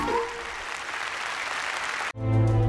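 An audience applauds in a steady burst of clapping that cuts off abruptly near the end, giving way to music.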